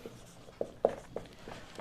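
Someone writes out answer options, producing a handful of short, scratchy pen strokes that come close and fairly faint, in an irregular rhythm against a quiet room.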